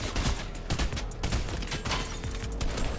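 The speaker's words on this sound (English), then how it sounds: "just shoot the person, Christian" Dense, rapid gunfire fills a video game firefight, overlapping bursts and volleys crackling continuously for several seconds at steady loudness.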